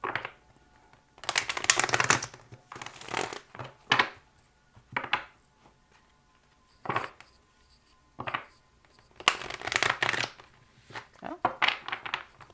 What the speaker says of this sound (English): let's shuffle and split the deck